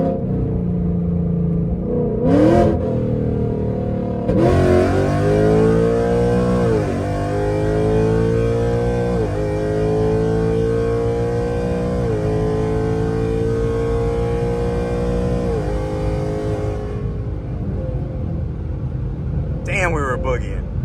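A loud 2024 Ford Mustang GT V8 with an illegally loud exhaust accelerates hard, its engine note climbing repeatedly through rising revs with sharp shifts between gears before dropping off, close and roaring throughout.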